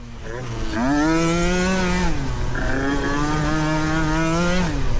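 A Yamaha Banshee quad bike races loud and close, its engine revving hard in two long climbing pulls with a brief drop between shifts, with a raspy, buzzy tone throughout.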